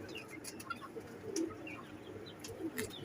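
Soft, low pigeon cooing over a hushed outdoor background, with a few faint chirps nearby.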